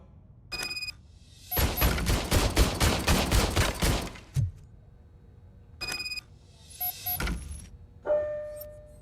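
Old service pistol fired in Robocop Rogue City: a short single shot, then a rapid burst of a dozen crisp reports, followed by a few more spaced single shots with metallic ringing, loud and close.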